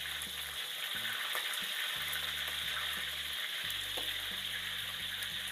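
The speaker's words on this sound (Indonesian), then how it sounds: "Goreng hingga matang gitu." Pandan-wrapped chicken pieces deep-frying in hot oil, a steady dense sizzle and crackle running throughout with occasional pops, close and loud with no talk.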